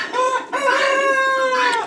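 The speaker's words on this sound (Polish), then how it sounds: "Drą się perliczki, gęsia i tam." Farmyard fowl near a pigeon loft squawk and call loudly up close, a couple of harsh, sustained honking cries in quick succession.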